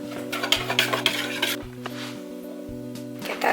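Brownie batter made with avocado and protein powder is stirred in a bowl, a repeated close scraping and clinking of a utensil against the bowl beneath a steady background tone, with no one speaking.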